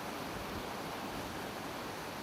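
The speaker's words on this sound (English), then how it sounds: "So the water flows right under this elevated slab" Water at a river diversion dam flows under an elevated concrete slab, a steady broadband rush and roar with no breaks, moderately loud and continuous with no voices.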